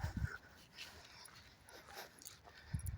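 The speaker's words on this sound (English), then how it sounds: "So every time someone walks into the co-op, there's a dog barking." A dog vocalizes in short bursts at the start and end, distant and muffled, with a murmur of background noise between, inside a co-op store.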